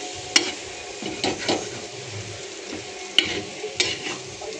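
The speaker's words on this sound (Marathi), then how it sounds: "आणखीन थोडी हिला फ्राय होऊ द्यायची" Egg bhurji frying on a tawa: soft sizzling broken by a few sharp spatula scrapes and taps against the griddle, close and moderately quiet, with no talking.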